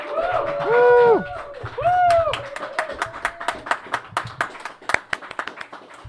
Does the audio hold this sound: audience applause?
yes